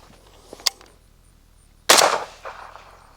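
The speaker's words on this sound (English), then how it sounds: "So this guy loaded up and try some shooting." A suppressed 5.56 rifle fitted with a JMac Customs Banka suppressor fires a few muffled shots: a couple of small sharp cracks early, then a louder dull report with a lingering tail and a fainter follow-up.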